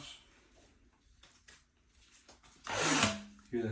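An Albion 18 volt electric bulk caulk gun gives off a sucking, whooshing draw that swells loudly near the end, after quieter mechanical clicks and handling noises close by.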